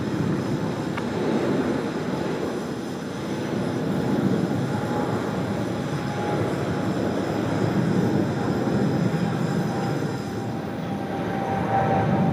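An American Airlines jet takes off at Sydney Airport with a continuous broadband engine roar that holds steady and fairly loud from a distance, with no voices over it.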